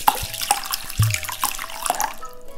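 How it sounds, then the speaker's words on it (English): Tap water runs into a bowl to soak glutinous brown rice in a home kitchen, a steady close splashing stream with small clinks, heard alone without talk. "Start by soaking some glutinous brown rice in water."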